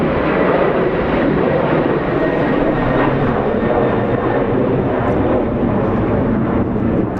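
A Sun Country Boeing 737 taking off from LAX, its jet engines a loud, continuous roar that holds steady throughout without any other sound.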